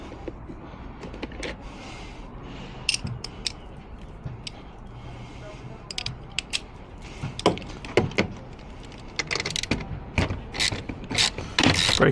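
Socket ratchet with an extension loosening a 12 mm bolt on a Kia EV6 during 12V battery work, giving short bursts of clicking and metallic rattles that grow denser near the end over quiet background noise.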